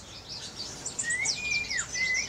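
Japanese white-eyes chirp while bathing at a river, high thin tweets and whistled calls close by, repeated over a steady rushing background.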